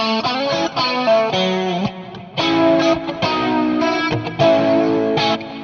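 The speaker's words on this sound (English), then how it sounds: "Like that's just my usable chorus effect, right?" Electric guitar played through a Headrush modeler with a chorus effect, a sequence of ringing, shimmering chords and single notes with gentle wavering and short gaps between phrases, clear and up front.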